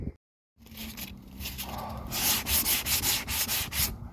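Sandpaper rubbing across a car bumper during a wall-scuff repair, close and steady, growing louder and more rhythmic in rapid back-and-forth strokes after a brief silence at the start.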